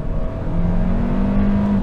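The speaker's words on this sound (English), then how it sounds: "And accelerate out of that." A 2022 Hyundai Kona N Line pulls hard out of a corner, its engine note rising in a steady, loud drone heard from inside the cabin, with no voices over it.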